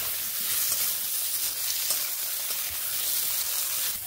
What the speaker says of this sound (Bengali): এই বেগুনগুলোকেও একই রকমভাবে ভেজে নিচ্ছি।